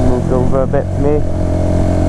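A motorbike rides past on the road, heard as a steady mid-pitched engine drone that fills the background while people talk over it.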